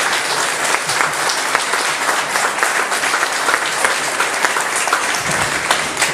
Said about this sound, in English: she deserves a round of applause